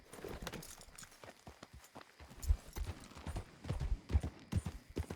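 Horse hooves clip-clop in Red Dead Redemption 2 as a horse is walked near a hitching spot, a close, uneven run of hollow thuds that tightens and grows louder toward the end.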